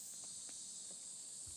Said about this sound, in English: The cicadas from Evangelion.